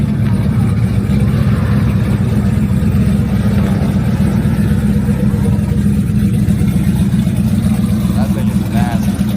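A right-hand drive manual Toyota Supra's engine runs loud and close, a continuous heavy rumble held steady throughout with faint voices in the background.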